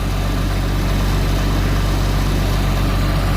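A forestry forwarder's engine running steadily while working its hydraulic steering cylinders, a loud, constant low rumbling drone that holds at an even pitch with no voices.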